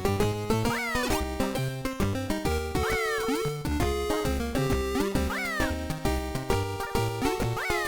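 Synthesized cat meows from the 1998 Game Boy game Looney Tunes: Twouble! repeat as pitched rising and falling chirps over busy, continuous chiptune music, with several short cries in a steady pattern.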